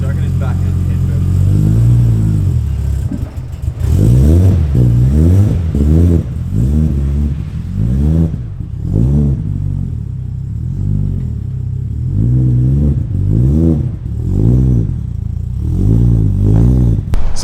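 A Nissan R34 GTT engine runs as the car moves, with a deep rumble that swells into repeated rising and falling revs across the clip, close and loud.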